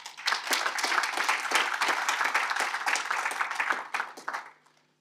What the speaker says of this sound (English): you give all the speakers a round of applause